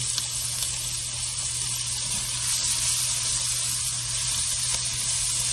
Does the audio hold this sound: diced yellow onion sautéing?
yes